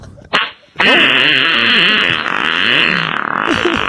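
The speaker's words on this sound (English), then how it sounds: "We're just going to play fart noises for the rest of the podcast." A loud, long, wet fart sound effect plays with a wobbling, buzzy, drawn-out rasp, preceded by a short sputtering blurt.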